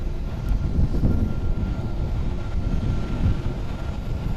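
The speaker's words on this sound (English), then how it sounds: "Gonna be arriving on runway 22 is going to be China Eastern Airlines Flight 537." Airbus A330-300 jet of China Eastern Airlines arriving on runway 22 at Tokyo's Haneda Airport, a steady broad low engine roar that holds at an even level throughout with no voices.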